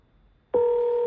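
A telephone tone sounds steadily, starting suddenly after a half-second of near silence and holding loud and unbroken to the end, one continuous ring-like burst on a call.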